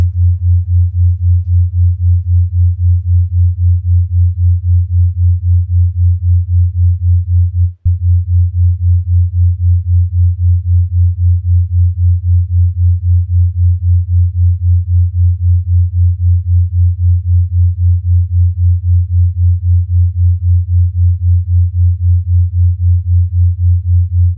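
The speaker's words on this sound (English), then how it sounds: "I'm just using Operator with a simple sine wave" Ableton Operator synth plays a simple sine wave for binaural beats, a steady low pure tone with a faint regular pulsing that continues alone, broken by one tiny click.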